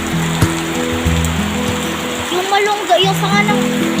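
Heavy typhoon rain and strong wind from Typhoon Enteng roar steadily outdoors as a broad, continuous wash, with people talking over it and a tonal hum running underneath.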